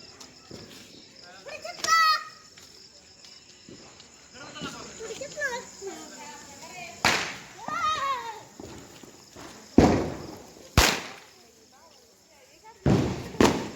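Diwali firecrackers going off in a rural village, with several sharp, loud bangs spaced apart in the second half while people chatter and laugh nearby.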